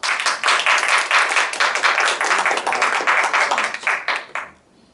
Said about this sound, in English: please give the Dr. Kalyan Kalwa the most applause.